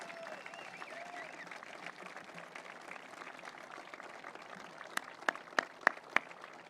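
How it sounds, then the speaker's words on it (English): Crowd applauding at the Gordie Howe Bridge opening ceremony, a soft sustained patter of many hands, with a few loud sharp claps close by near the end. "Stand up, get some applause."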